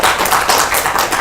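An audience applauding a lecturer at the end of the final episode of a talk, with dense, even clapping throughout the brief moment, close and loud.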